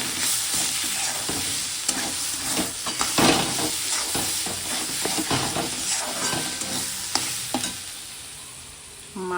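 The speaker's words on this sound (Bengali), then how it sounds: "লাল শাক ভাজা হচ্ছে।" Red amaranth leaves fry and get stirred in a pan, giving a steady loud sizzle with scraping and clattering strokes of the stirring, alone with no talk.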